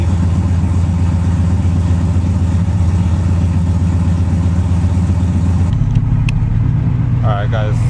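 A car engine fitted with a new Melling oil pump and still suffering lifter tick runs loud and close at a steady idle with a rapid rhythmic pulse, and its tone shifts near the end as a voice speaks.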